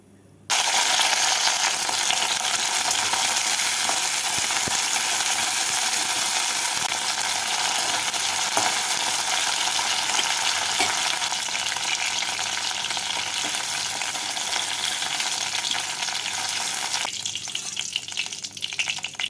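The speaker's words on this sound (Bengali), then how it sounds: "এবার এই তেলের মধ্যে ঢ্যাঁড়সগুলোকে দিয়ে নাড়াচাড়া করে উঠিয়ে রাখবো" Sliced okra frying in hot oil in a kadai while being stirred, producing a loud, steady, close sizzle that runs unbroken and eases slightly at the very end, with no voices.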